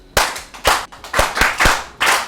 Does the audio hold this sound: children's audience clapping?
yes